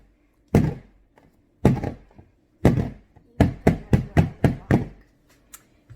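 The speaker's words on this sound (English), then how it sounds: "You want to kind of bang it down and make sure it's flat and even all the way around." A cake pan filled with batter is banged down on a counter to level it: about nine sharp, hollow thunks, first three spaced apart, then six in quick succession, close and fairly loud.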